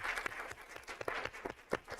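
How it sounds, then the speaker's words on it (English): At a school board meeting, an audience gives students a faint round of applause, with scattered, uneven claps at some distance. "a little round of applause for our courageous students"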